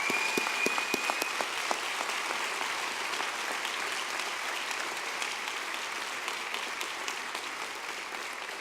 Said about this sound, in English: give your parents and family a big round of applause